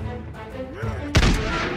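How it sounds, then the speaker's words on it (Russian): A cannon fires once in the battle game Totally Accurate Battle Simulator, a single sharp boom partway through over busy game sounds and a faint voice. "Пушка на него разрядилась."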